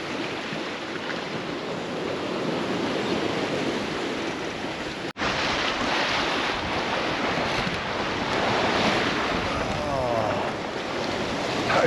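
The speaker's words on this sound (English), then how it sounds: "as you can see, the waves are pretty dirty" Strong wind roars across the microphone while choppy, dirty waves rush and slap around a sailboat on open sea, its genoa overpowered. A loud, continuous wash breaks only once, very briefly, near the middle.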